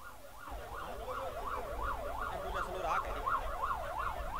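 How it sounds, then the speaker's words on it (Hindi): An ambulance siren wails steadily in a rapid up-and-down pattern, moderately close, cutting through the murmur of a large crowd at an outdoor farmers' protest rally with vehicle rumble underneath. "रस्ता छड़ दो, एम्बुलेंस लंघती पई आ"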